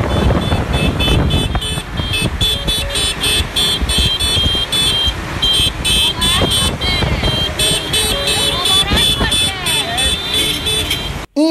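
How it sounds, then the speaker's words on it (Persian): Busy road traffic in Iran with repeated horn toots from motorbikes and cars, close and loud, mixed with engine drone throughout. "فامیلام همه سوار موتورن دارن پشتشون بوق میزنن"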